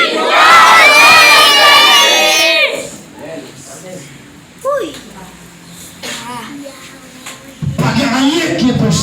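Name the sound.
congregation shouting victory in the name of Jesus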